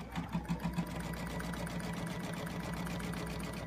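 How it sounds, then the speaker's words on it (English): Sewing machine running a basting stitch through fabric for a cinch bag, a close, steady rapid mechanical whirring and clatter with a few louder pulses at the start, no talk. "And here comes that basting stitch."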